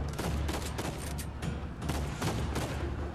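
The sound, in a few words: gunfire and headshots in the video game Uncharted 4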